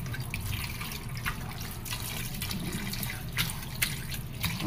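Water poured steadily into a bowl of grapes soaking in water mixed with baking soda, with scattered drips and small splashes over a continuous low trickle, close and moderately quiet, no talking.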